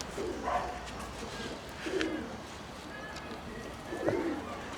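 A pigeon cooing in soft, repeated low calls, three or four separate coos against a quiet outdoor background.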